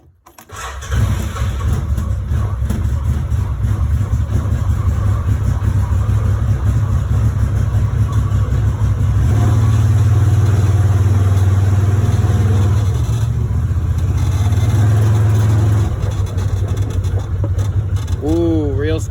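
An Arctic Cat engine runs steadily throughout a test drive after a brake change, a loud continuous low drone that swells briefly in the middle and carries on to the end, with a short rising whine near the close.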